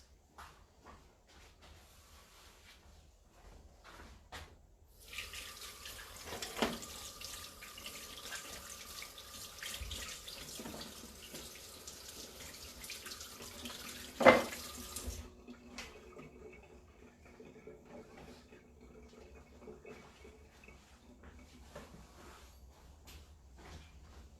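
A kitchen tap runs while floury hands are washed during meatball making: a quiet room gives way to a faint, steady stream of water for about ten seconds, with one brief splash before it shuts off.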